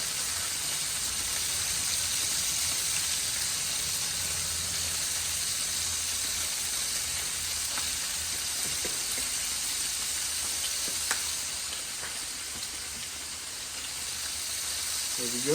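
Bacon seasoned with Lowry seasoning and brats sizzling in a pan, a steady close hiss of frying throughout with faint clicks and occasional soft crackles.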